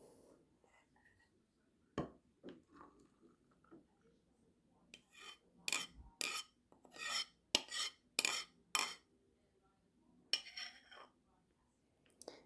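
A matcha drink being mixed in a cup gives a run of quick clinking strokes that come in bursts, sharp and close, with quiet gaps and a few lone taps between them.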